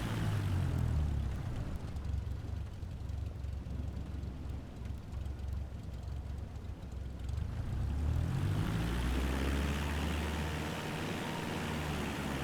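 A Cessna 172 propeller engine taxis in the flight simulator game MSFS 2020, a steady droning hum that dips in the middle and then swells back up to a louder, brighter whir.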